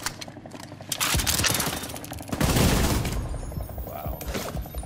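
Automatic gunfire in The Division 2 combat, with dense, loud bursts of rapid shots and explosive impacts that surge and fade, mixed with game effects and voices talking.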